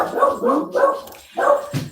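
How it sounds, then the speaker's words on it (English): Dogs bark in a string of loud, close woofs at a passing car, several bursts in quick succession with a short pause before a final bark. "The dogs are barking now because the car drove by"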